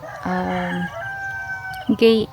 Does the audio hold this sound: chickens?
yes